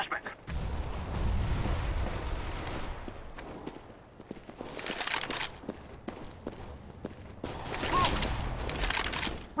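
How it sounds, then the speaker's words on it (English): Flashbang and grenade blasts in CS:GO, several bursts of broadband noise with footsteps and gunfire scattered between them, loud and close, with game voices now and then. "I'm throwing a flashbang."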